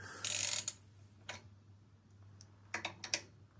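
A ratchet with a 1/2 inch socket works a bolt in a Morris Minor engine bay, giving a burst of quick clicking followed by a few short scattered clicks, close and quiet with no talk.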